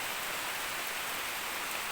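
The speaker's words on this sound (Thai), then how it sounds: "ที่ฝนกำลังตกปล่อยๆนะครับ มาให้เพื่อนๆได้ดูกัน" Rain falls steadily beside a rock shelter among green foliage, an even hiss of drops on leaves and surfaces, close and continuous with no voices.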